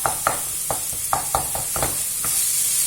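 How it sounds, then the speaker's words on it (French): Chicken samosa filling fries in a pan while being mashed and stirred, with a steady sizzle underneath and about a dozen sharp scraping knocks of the utensil at uneven intervals, close and clear. "je vais continuer à faire revenir tout ça tout en écrasant comme ça"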